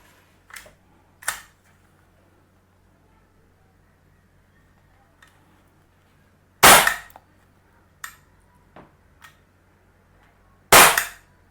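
Camstar Star RX air gun firing two loud, sharp shots several seconds apart, with softer mechanical clicks from the gun in between, heard close in a quiet room.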